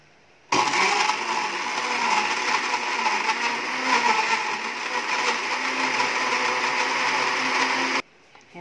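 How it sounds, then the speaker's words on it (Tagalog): A blender making a fruit shake runs loudly and continuously for several seconds, a steady whirring motor that starts abruptly and cuts off near the end. "Tapos na nating ma-blender."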